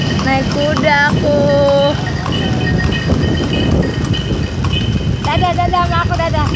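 A horse pulling a delman cart clip-clops steadily along, the hoofbeats close and continuous under street noise, with a child's and adults' voices talking over it.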